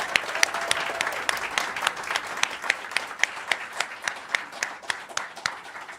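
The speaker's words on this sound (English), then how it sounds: "Let's just do a round of applause for the entire panel of speakers" Audience applauding a panel of speakers at a community violence-prevention event, a dense steady roar of many hands with sharp individual claps standing out throughout.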